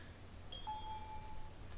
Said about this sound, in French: Juste ce petit bruit de mon téléphone,